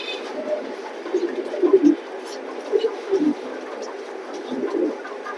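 A pair of racing pigeons, a cock and hen, coo in low repeated bursts close by, with soft rustling between calls and no talking.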